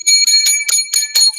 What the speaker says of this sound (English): The world's loudest jingle bell